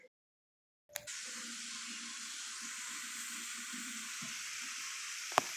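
Ground beef for tacos cooks down in a pan with a steady sizzle and frying hiss, close and even, broken by a couple of faint clinks.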